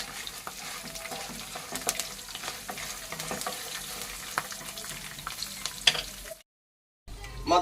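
Dried red chillies sizzle and fry in oil while being stirred for mango pulihora. A steady crackle runs under scattered clinks of the utensil, then cuts out briefly near the end before resuming.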